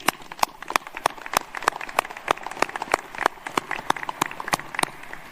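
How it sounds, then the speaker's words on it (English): Sparse, uneven clapping at an Air Force cadet graduation ceremony, individual sharp claps scattered irregularly across a large venue, moderately loud but never building into a dense ovation. "another round of applause, please"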